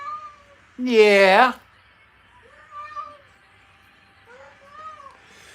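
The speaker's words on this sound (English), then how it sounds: "Sitting there meowing at me." A single loud, drawn-out cat meow close by, followed by faint, quiet voices talking.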